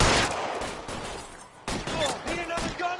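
Gunfire in the L.A. Noire video game crackles in a few sharp bursts, with a loud shot opening and another cluster about halfway through, followed by a brief talking voice.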